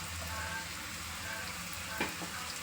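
Chopped green chillies fry in a pan for egg bhurji, giving a soft, continuous sizzle with a faint scrape of stirring near the end.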